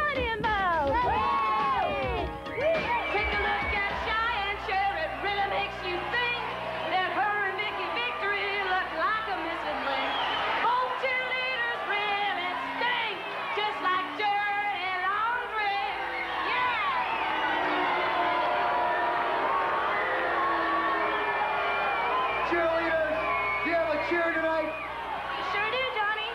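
Cheerleaders at a women's wrestling match chant and shout a cheer together, a dense, lively stretch of overlapping voices with crowd noise beneath it, carrying on steadily for the whole stretch.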